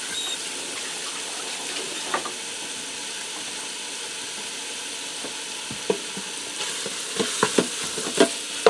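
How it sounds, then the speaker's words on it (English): Ground beef browning in a pressure cooker pot, a steady low sizzle with occasional scrapes and clinks of a utensil against the pot, growing busier near the end, no talking. "I'm going to brown my ground beef so it's no longer pink"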